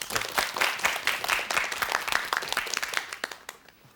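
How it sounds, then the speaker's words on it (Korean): A studio audience at a Korean TV show claps together, with loud applause that gradually thins out and fades to a few scattered claps. "뭘 챙겨야 될지 안흥섭 씨에게 박수로 청해 듣겠습니다."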